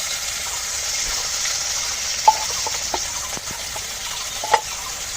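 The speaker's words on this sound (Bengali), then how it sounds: "সব মশলা দিয়ে সুন্দর করে কষিয়ে নেব।" Ground spices with turmeric, ginger, cumin and coriander paste and chili powder sizzling and frying steadily in a pan over fried whole cumin, with a couple of sharp stirring clinks against the pan.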